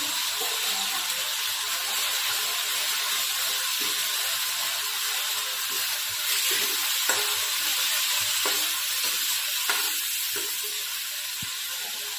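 Tomato masala paste fries in a pan with a steady, close sizzle and hiss, with faint stirring scrapes and clicks scattered through it.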